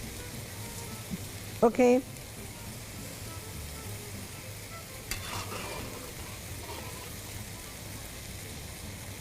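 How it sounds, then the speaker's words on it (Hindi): Coarse-spiced minced meat (keema) fries in a pan with a faint, steady sizzle, broken by a couple of soft stirring scrapes and a brief spoken word from a woman. "अब मेरा कीमा जो है भुनाई पर है, मैं इसे भूनूंगी।"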